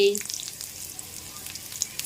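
Chopped garlic sizzles in hot oil for a South Indian sambar tempering, a steady close frying hiss with small crackling pops throughout, following a brief tone at the start.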